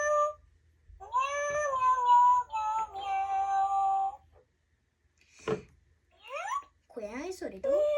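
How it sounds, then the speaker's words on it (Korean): A Pets Alive Smitten Kitten plush toy plays electronic cat meows, a sustained tonal mewing followed by several short rising meow calls, close and clear with brief gaps of quiet. "여기 음표 자수가 있는 데를 누르면 고양이 소리도"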